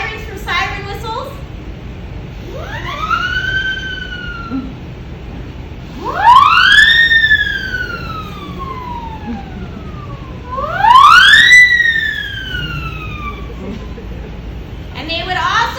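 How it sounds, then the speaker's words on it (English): A siren whistle used as a sound effect produces three rising-and-falling wails, each climbing to a high pitch and sliding back down, spaced a few seconds apart over a low background. "Sirens from siren whistles."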